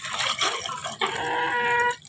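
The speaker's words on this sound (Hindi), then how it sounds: "अब मैं करूँगी साफ और आपके लिए डालूँगी इसमें पानी" Clean water pours and splashes into a hens' water bowl in two short gushes, close and moderately loud, with no talking.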